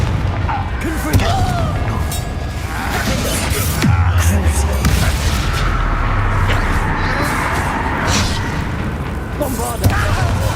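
Fiery Confringo spell blasts in Hogwarts Legacy, several booming impacts and crackling bursts amid busy combat noise, with a voice speaking over parts of it.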